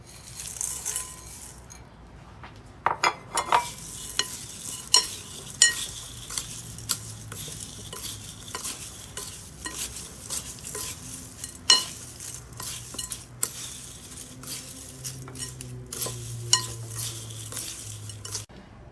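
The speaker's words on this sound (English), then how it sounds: "Go ahead and add the rest of the salt into the fish and mix it well." Fish being mixed by hand with salt in a bowl to make Khmer prahok produces scattered scraping, clinking and wet mixing sounds, intermittent and close, with faint background music.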